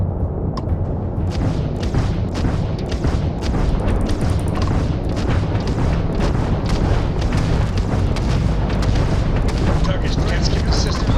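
Spaceship weapons fire and explode in the Starfield video game: a dense, continuous barrage of booming blasts and crackling bursts, loud throughout the stretch.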